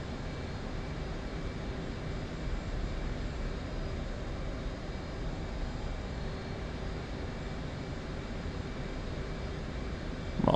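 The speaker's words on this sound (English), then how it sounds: "This jet here behind me is making me nervous." Steady, loud jet engine roar from a fighter in the combat flight game Persian Gulf at War, a continuous broadband rumble holding unchanged throughout with no talk over it.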